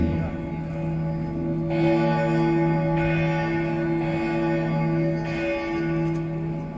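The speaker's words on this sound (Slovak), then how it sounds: "Toto je zvon Vederín." The old church bell Vederín, carrying a Latin inscription, rings with sustained metallic tones, fresh strikes landing roughly every one and a half to two seconds over a lingering hum, loud and close.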